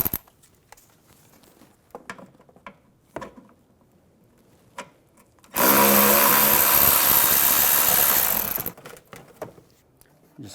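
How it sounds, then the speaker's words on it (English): A power tool spinning out screws with an 8mm socket on a 2009-2013 BMW 328i xDrive, one loud steady whir lasting about three seconds, surrounded by quiet clicks and handling noise. "I'll take these two screws out,"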